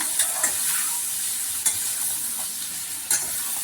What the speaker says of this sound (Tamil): இந்த மாதிரி வெங்காயம் எல்லா பக்கமும் படுற அளவுக்கு கிளறியாச்சு